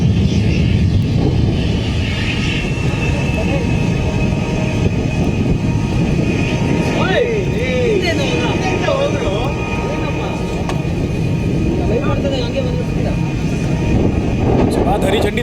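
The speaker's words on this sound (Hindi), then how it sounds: "जैसे ही चेकिंग का काम पूरा होता है, हरी झंडी दिखाई जाती है और फिर विमान आसमान में उड़ान भरने लगता है।" A Tejas fighter jet at an Indian Air Force induction ceremony in Bengaluru roars during takeoff, a loud, continuous broadband rumble with a faint rising whine that holds steady throughout.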